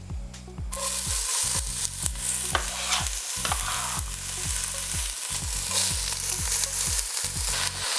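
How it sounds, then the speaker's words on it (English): Onions dropped into a hot pot for an Italian tomato sauce sizzle loudly and steadily, with pulsing scrapes of stirring throughout and no talk. "Our pot is nice and hot, so we're going to add our onions right in."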